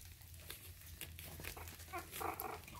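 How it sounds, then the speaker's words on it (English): A three-week-old puppy gives a brief, soft bark near the end, following faint whimpers and rustling at feeding time, with no talk. "oh, there was a bark."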